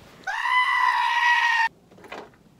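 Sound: sheep bleating

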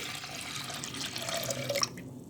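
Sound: water poured into pressure cooker with toor dal

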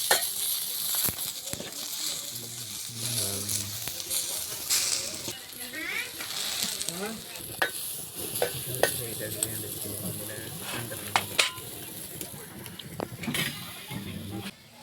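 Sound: tomatoes frying in a pan

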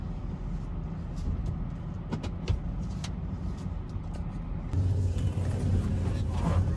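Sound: vehicle pulling up

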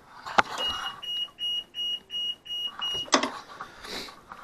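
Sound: boat bilge water alarm beeping

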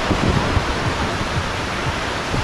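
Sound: sea surf at Rawai, Phuket

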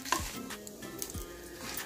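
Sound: peanuts and dried red chillies lightly frying in a pan

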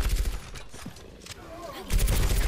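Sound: deployed turret firing, from a video game

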